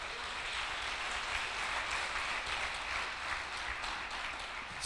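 A church congregation applauds, a broad, steady wash of many hands clapping at once that holds at an even level throughout, heard from within the hall.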